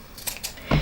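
Sewing scissors snip the corners of fabric for a velvet coin purse, giving a couple of faint, crisp clicks followed by one louder, closer cut at the end.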